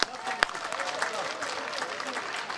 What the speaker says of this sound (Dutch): En ik denk dat dat meisje allen een heel groot applaus waard is.